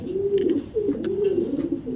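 Racing pigeons from a breeder's stock coo steadily and close, a continuous low rolling coo with overlapping calls and no talk.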